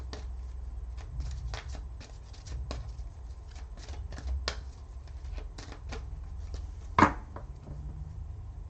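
A deck of soul's journey oracle cards is shuffled close up, giving a run of quick, soft, papery riffles and taps with one sharper slap near the end.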